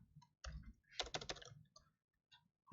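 A computer keyboard is typed on, including a Tab-key press to indent, as a quiet, close run of rapid key clicks clustered in short bursts with gaps between.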